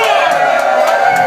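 Wedding guests at a reception cheer and whoop loudly together with a dense crowd roar after a best man's toast to the newlyweds, with scattered clapping and voices mixed in throughout.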